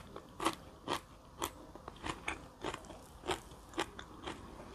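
Blanched young wild vegetable shoots are dipped in a fresh-fish chili paste and eaten close up. About a dozen soft, crisp bites and crunches come in an even rhythm through a quiet background, with no speech.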